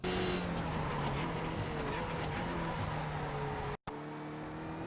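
A Skip Barber race car in iRacing brakes hard and downshifts into second gear at Interlagos, its engine note dropping and tires squealing in a loud, continuous roar, with a brief dropout near the end.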